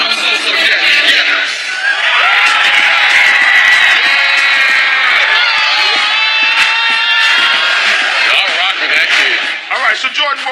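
A dense, loud crowd at a rap performance cheers, whoops and shouts continuously, with excited young voices and high-pitched screams sustained throughout, swelling slightly before tapering near the end.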